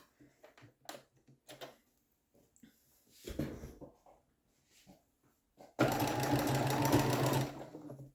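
Home sewing machine running a thick triple stretch stitch with black thread and a walking foot, a few short stitching bursts, then a steady close run of several seconds.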